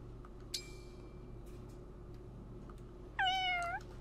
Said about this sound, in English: All right, stupid cat, hurry up.